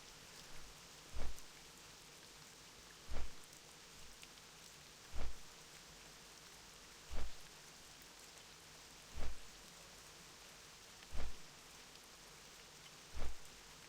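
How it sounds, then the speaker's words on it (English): Steady rain hisses throughout in Classic World of Warcraft, with a low thump repeating about every two seconds underneath; no voices. "It's a rainy day in Tristfall Glades."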